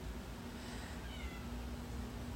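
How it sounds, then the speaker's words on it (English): A cat meows behind a door in a kitchen, giving a couple of faint, drawn-out calls over a steady low hum. "There's a meowing cat over behind this door."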